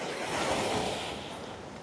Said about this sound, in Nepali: छाल धेरै आइरहेछ हेर्नु